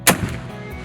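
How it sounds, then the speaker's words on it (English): A single loud, sharp report of a French 75 field gun fired in a virtual reality World War I cannon recreation, followed by a brief decaying tail. "oh my gosh, I'm shooting off an ancient cannon right now"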